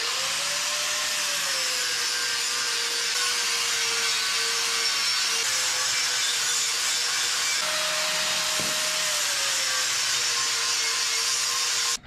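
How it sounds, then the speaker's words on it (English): Steady, continuous rasping of a hand file worked over metal pieces from a service truck ladder rack, cleaning them up before welding; the scraping runs unbroken and fairly loud with a faint background hum, and no one speaks. "I've just been filing on these, just trying to get them cleaned up as much as possible"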